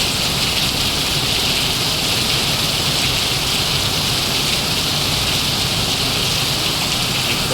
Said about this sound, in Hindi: देखिए किस प्रकार बारिश हो रहा है